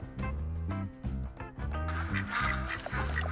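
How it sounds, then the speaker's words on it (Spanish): Ducks quack from a flock in a duck-hunting video game, with repeated loud nasal calls overlapping in bursts along with steady layered game music. "Vemos ahí un grupo de patos"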